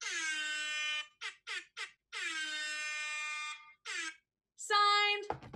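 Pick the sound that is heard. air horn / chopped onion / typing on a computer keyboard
air horn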